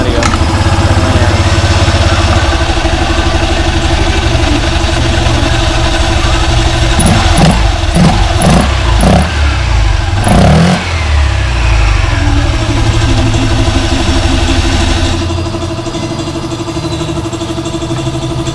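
A Honda Click 125i scooter runs after a flyball replacement in the CVT, its engine humming steadily up close, with a few quick revs in the middle before it settles back toward idle.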